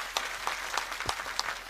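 Crowd at an outdoor political rally in Nimgaon Ketaki claps to welcome a speaker, a short stretch of scattered, moderately loud applause with individual claps standing out.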